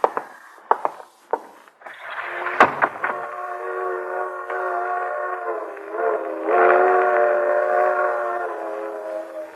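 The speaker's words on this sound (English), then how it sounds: "Freight train." A freight train sound effect for a radio drama: a few sharp knocks, then a sustained, loud, chord-like train whistle that holds and swells for several seconds, alone without talk.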